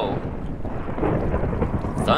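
Rumbling thunder in a blocky video game, a loud, low roll that swells and sustains through the whole moment alongside a rain-like hiss, with no voices over it.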